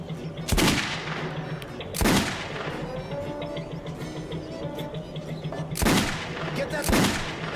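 Gunshots in the video game Metro, four loud cracks in two spaced pairs, each with a short echoing tail over a steady low background hum.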